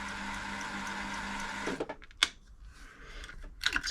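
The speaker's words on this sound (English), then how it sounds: "Stop the needle going up and down for winding the bobbin." A Silver/Pfaff 1139 sewing machine runs steadily with its needle going up and down, a close mechanical whir that stops partway through, leaving a few sharp clicks and taps.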